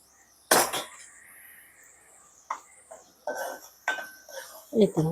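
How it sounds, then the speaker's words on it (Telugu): A cooking pot wobbling on the stove while a Telugu mango, moong dal and snail curry is made, with several loose metallic clanks and rattles at irregular intervals, close and fairly loud. "ఇది ఊగుతూ ఉంటుంది గిన్నె"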